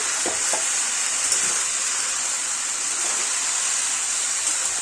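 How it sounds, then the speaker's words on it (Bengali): Pumpkin greens with jackfruit seeds and salt sizzle steadily in a pan, a bright continuous hiss with a few faint scraping stirs near the start. "এখন খুব ভালো করে একটু নেড়ে চেড়ে নিচ্ছি।"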